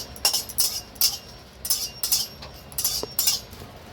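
Two dry red chillies are stirred in a pan, a metal spoon clinking and tapping against it in a quick, irregular series of light, close strikes.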